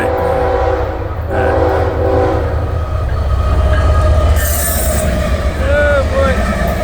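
FEC 107 freight train rolling past at night, a loud continuous rumble of wagons on rails, with a horn sounding in the first seconds and squealing wheels later on.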